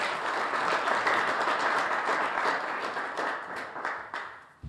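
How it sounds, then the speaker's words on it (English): Sustained applause from an audience at a signing ceremony for a speed limit motion, a dense wash of many hands clapping at steady volume, tapering slightly near the end. "Please give him applause"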